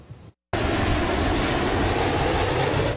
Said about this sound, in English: Imagine these planes roaring over your house over and over.